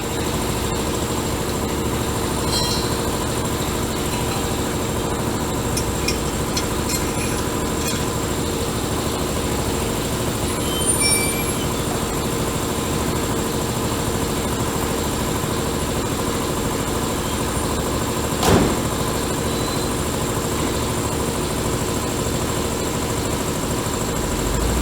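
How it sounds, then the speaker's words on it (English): A Mercedes-Benz W124 car engine idles steadily during a California emissions test, a constant low rumble, near and continuous, with a brief louder bump toward the end. "He's got to run the high revving test a couple times."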